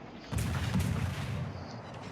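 Destroyer deck guns firing in a naval warfare video game, a heavy booming salvo with a rumbling low tail that holds for about two seconds, loud and without talk.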